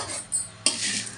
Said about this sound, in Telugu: కొంచెం జీలకర్ర వేస్తున్నాను. వేసిన తర్వాత ఇవి వేపేసుకుందాం.